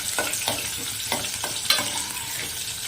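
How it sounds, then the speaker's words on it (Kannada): Medium-cut onions fry in hot oil for bitter gourd sambar, a steady sizzle broken by several scraping stirs of a spatula, close and fairly loud, with no talking. "ಈರುಳ್ಳಿನ ನೀಟಾಗಿ ಫ್ರೈ ಮಾಡ್ಕೊಳ್ಳಿ."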